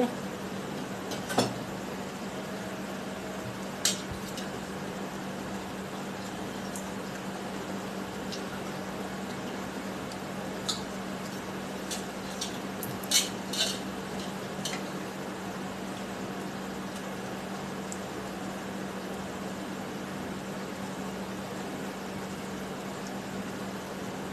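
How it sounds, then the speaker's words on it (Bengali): Potato wedges fry on high heat on an induction cooker. A steady, fairly faint hiss runs throughout under a low constant hum, with a few isolated clicks. "আমার ইন্ডাকশন ওভেনের জাল যতটুকু আছে আমি হাই হিটে করে এটা ভাজছি"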